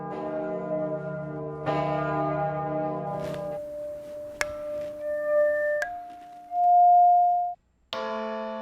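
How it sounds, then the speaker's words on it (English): Bronze bells cast by the Grassmayr bell foundry ring out in a series of clear, sustained strikes, their tones decaying slowly and overlapping before a long steady hum and a final fresh strike. "Unsere Glocken läuten Jahrhunderte."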